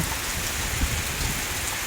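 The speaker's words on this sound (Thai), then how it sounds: "ฝนตกตลอดเลยนะครับ" Heavy rain pours steadily at a garden home, a dense, loud, continuous hiss of drops with no pauses.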